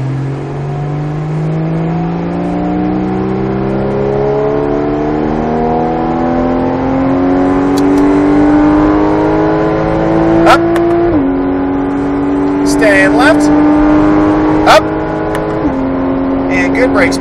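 A Porsche Cayman GTS engine climbs steadily in pitch as it accelerates hard on a race track, with a gear shift partway through before the revs rise again. The engine is loud and close, with brief sharp noises near the end.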